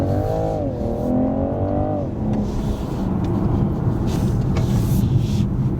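A high-performance car accelerates hard, its engine note climbing in pitch for about two seconds before settling into a loud, sustained roar with road and wind noise.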